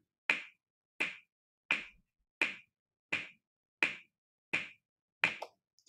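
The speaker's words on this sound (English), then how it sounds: "So I'll use a metronome and I'll say, clap when you get to the ninth beat." A metronome ticks eight sharp, evenly spaced clicks, loud and alone in a quiet room, keeping a steady beat for a clapping game.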